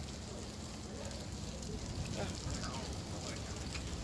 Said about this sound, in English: local politician Urian Riana saw this bizarre downpour in a parking lot